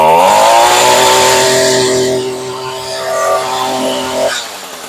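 A two-stroke Echo SRM 225 string trimmer engine, fitted with a new spark plug, holds a loud steady high-revving wide-open whine close by for about four seconds before cutting off.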